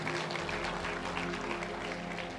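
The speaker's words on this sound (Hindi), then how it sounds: "ताली बजाए" A church congregation claps together during a Hindi sermon, a steady dense wash of applause that holds evenly throughout with a faint hum underneath.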